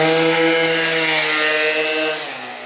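A 1989 Honda Dio Elite scooter fitted with a big bore kit and an AF16 motor swap revs hard, a loud buzzing two-stroke whine that holds high and then drops away near the end.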